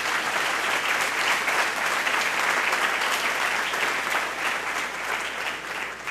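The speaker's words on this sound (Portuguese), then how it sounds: "Vamos aplaudir o Senhor por isso." A church congregation applauds together in a steady, dense wash of clapping that holds strong for several seconds and eases slightly toward the end, with no voices over it.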